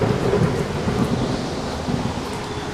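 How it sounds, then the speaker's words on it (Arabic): Thunder rumbles under heavy rain in a storm, a dense continuous roar with low rolling booms, loud and steady throughout. "أول ما دخلوا صوت البرق والرعد كان جامد."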